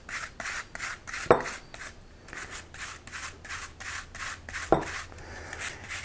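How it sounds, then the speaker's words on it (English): An apple rubs against a kitchen grater for pancake batter in steady, rhythmic rasping strokes, about two per second, up close, with a couple of sharp knocks in between. "I'm just going to use a grater, and I'm going to just put this into the apple"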